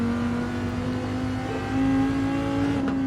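A car engine in the Gran Turismo 7 racing game, played with a Logitech G920 wheel, holds a steady loud drone that rises slightly partway through, heard alone without talk.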